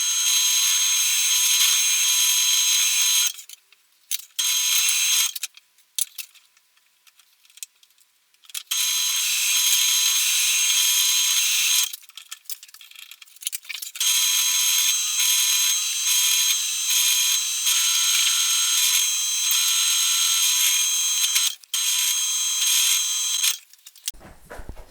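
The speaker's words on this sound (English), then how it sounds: "Okay, onto the drill press." Drill press boring tuner holes in a Precision Bass headstock, a loud high whine in several long bursts separated by short quiet pauses as the bit cuts and lifts, close up, no talking.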